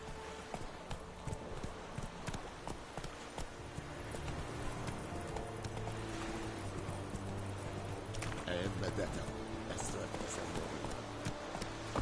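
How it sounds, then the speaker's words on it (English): Hooves of the horse Roach pound in a rapid, steady gallop in the video game The Witcher 3, close and continuous alongside game sounds, with someone talking now and then. "Run, Roach"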